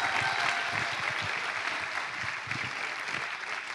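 Audience applause at a student conference opening ceremony, steady dense clapping filling the hall throughout, with no voices over it.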